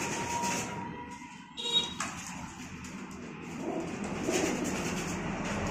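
Salara teddy pigeons, one probably a male, coo softly among steady broadband room noise and scattered clatter, with no talk.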